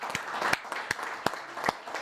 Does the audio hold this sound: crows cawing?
no